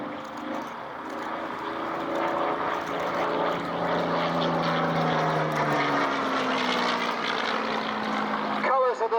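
A Supermarine Spitfire Mk V in 309th Fighter Squadron colours flies past at an air show, its propeller engine droning loudly with a falling pitch as it passes, while a commentator talks over it.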